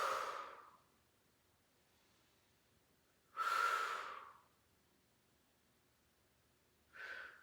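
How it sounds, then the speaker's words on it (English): Three slow, breathy exhalations through the mouth during a senior yoga cool-down, each a soft whoosh lasting about a second, separated by long quiet pauses in a calm room. "This time we're going to exhale through the mouth."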